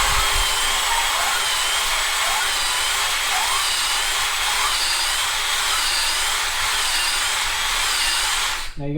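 Fishing rod grips reamed with fiberglass mandrels wrapped in low-grit sandpaper tape give a close, steady, continuous abrasive whirring grind that holds for several seconds and then stops abruptly.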